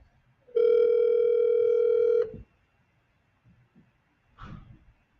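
Telephone on an outgoing call: one steady, loud ringback tone lasting under two seconds, then it cuts off to near silence with a brief faint muffled sound afterward.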